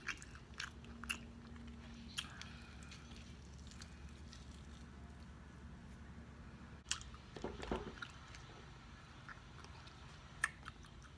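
Close, quiet chewing of air fried fish during a mukbang, with soft wet bites and squishy mouth sounds repeating through the clip, with a slightly louder burst of crunching near the end and no talking.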